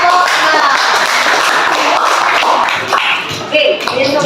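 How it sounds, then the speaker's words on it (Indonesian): Classroom students clap for a student group, a loose, uneven burst of hand claps with some shuffling and voices mixed in, fairly close and loud. "tepuk tangan untuk kelompok"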